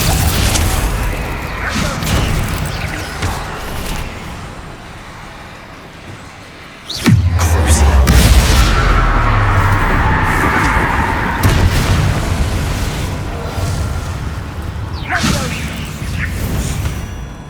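Bombarda spell blast in Hogwarts Legacy: a sudden heavy boom midway through, within a busy, loud layer of game sound effects and whooshes, with no talk.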